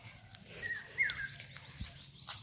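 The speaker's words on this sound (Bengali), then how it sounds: "কি সুন্দর পাখি ডাকছে না বন্ধুরা" Small birds call in a rural village near paddy fields and a pond, with faint, scattered chirps and a short whistled note over a soft outdoor background.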